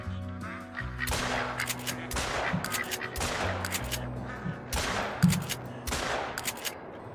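Shotgun blasts at a group of ducks in the hunting game Call of the Wild, several sharp shots spaced about a second apart, loud and close, with duck quacks and honks in the background.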